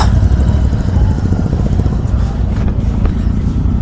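A pack of motorcycles on a Distinguished Gentleman's Ride group event produces a loud, steady engine rumble that stays close and continuous throughout.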